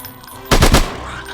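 A single loud burst of gunfire in a shooting video game, a quick rattle of a few close shots lasting about a third of a second against a quiet background.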